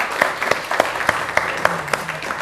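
An audience at an Indonesian arts and culture stage program applauds a performer being introduced, with sharp individual claps standing out at a loose, uneven pace over a softer background of clapping.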